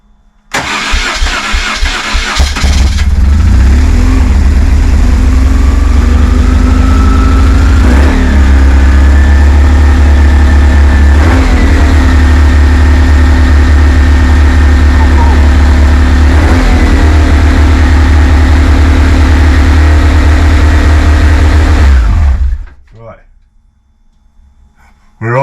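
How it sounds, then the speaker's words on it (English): A high-mileage BMW 1150GS motorcycle engine catches after cranking and settles into a steady, slightly high and rough idle. It runs loud and close for about twenty seconds, then cuts off. "We're idling a bit high, but it works. Sounds a little bit rough at the minute"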